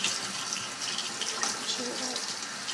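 Water runs steadily from hot and cold taps into a sink, a continuous broadband splashing hiss that stays even throughout.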